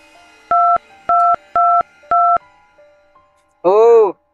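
Four evenly spaced dual-tone keypad beeps, like a phone number being dialed, followed by a short burst of a ringing or warbling tone.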